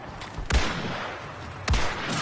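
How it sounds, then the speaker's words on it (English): Grenade blasts go off in Star Wars Battlefront 2 combat, two sharp, loud explosive bangs about a second apart, each with a short rumbling tail over steady battle noise. "Grenade in play."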